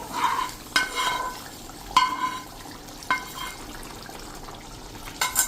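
Fried fenugreek leaves are stirred into cooked potatoes, with a spoon clinking and scraping against the pan in a few separate strokes over a faint, moist sizzle, close and fairly quiet, with no talking.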